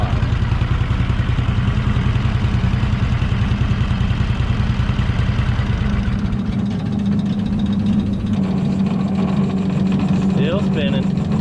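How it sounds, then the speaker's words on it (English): Large Vermeer woodchipper with a heavy bladed counterweight flywheel, spinning down after shutdown: a steady low rumbling whir that holds on throughout, with a mechanical hum settling in toward the end. "That wheel right there is gonna keep spinning for a while."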